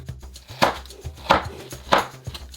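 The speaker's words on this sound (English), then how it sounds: "We'll set our little unicorn aside and cut up our cucumber." A knife cuts a cucumber on a board for a school lunch box, three crisp chops about half a second apart with soft knocks in between, close up and with no talk.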